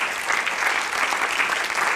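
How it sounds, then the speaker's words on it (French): Audience at a poetry reading venue claps steadily, a dense even wash of applause with no voices over it. "Vous pouvez l'applaudir."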